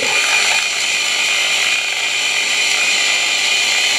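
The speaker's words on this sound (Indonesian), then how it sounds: "kita hidupkan ultraturaf itu untuk mencampur larutan dan suspending agent tadi. Kita gunakan kecepatan 3000 rpm selama 5 menit." An Ultra-Turrax homogenizer runs at 3000 rpm, mixing a solution with a suspending agent: a loud, steady high-pitched motor whine and hiss that holds constant throughout without a break.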